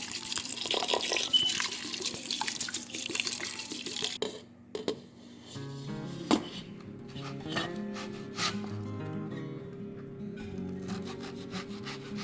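Rice being rinsed under running tap water for coconut rice, with grains rubbing and sloshing in a pot, then a steady trickle of water continuing close by.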